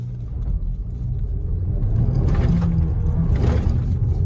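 Skoda Slavia 1.5 TSI with traction control switched off spins its wheels on a gravel road, a deep, loud engine rumble that builds with rough surges and scrabbling bursts and no talk.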